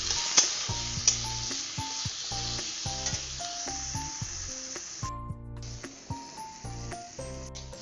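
Sweet potatoes seasoned with salt and turmeric sizzle steadily in hot oil in a pan, a continuous frying hiss running under loud background music.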